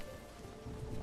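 Rain falling in the video game Bellwright, a steady soft hiss of drops spread across the whole clip at low level, with slightly heavier patter toward the end.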